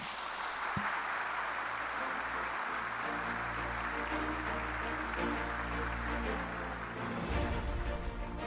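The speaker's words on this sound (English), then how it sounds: "let us give a resounding applause to our commencement speaker, Dr. Joe Mark M." A crowd at a university commencement ceremony applauds the commencement speaker, producing a broad, sustained wash of clapping that holds steady and fairly loud throughout, with a low steady hum running beneath it.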